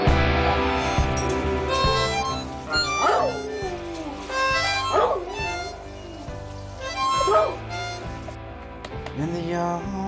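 A very old dog whimpers and lets out drawn-out, howl-like yips in a few rising bursts, close by, over a steady background of music.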